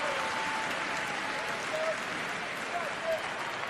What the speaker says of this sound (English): this jam-packed house, standing room only. Cheering for these two great athletes